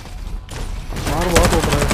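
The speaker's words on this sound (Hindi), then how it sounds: "बंदा पटेल गोली चला रहा।" Gunfire in the battle game Farlight 84 erupts midway as rapid bursts of automatic shots, loud and dense, with faint talk in the background.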